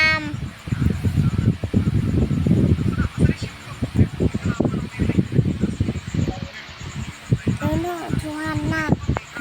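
Geese honk repeatedly, loud and close, while people talk over the calls throughout.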